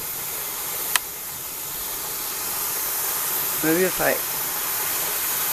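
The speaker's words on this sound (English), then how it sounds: "See that full steam? Now we let it vent for 10 minutes" A pressure canner vents steam while ham is canned, a steady loud hiss filling the whole stretch after a sharp click, with a brief spoken phrase near the end.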